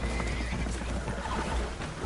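Spooked horses neighing and whinnying aboard a damaged boat taking on water in the video game Red Dead Redemption 2, a dense, continuous mix of agitated horse calls and hoof clatter with a low rumble beneath.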